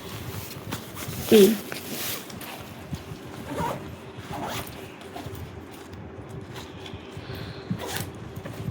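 Zippers on a school bag are pulled open in a few quick rasping strokes, one louder burst early on, with faint room noise between.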